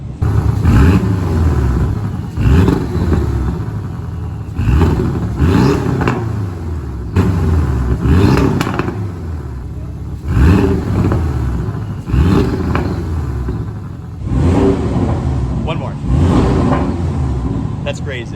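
A Porsche 718 Cayman S engine revs repeatedly in close, loud bursts, each rising and falling in a steady rhythm of throttle blips over about eighteen seconds.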